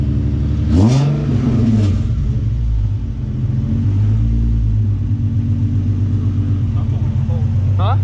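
A car engine is revved briefly with a rising then falling note, then settles into a low idle rumble, with voices speaking over it.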